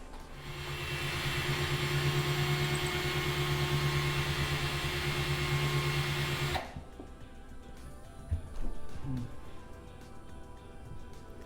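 A power drill whines steadily and loudly for several seconds while drilling into a wall, then stops abruptly, followed by a few quieter knocks and handling sounds.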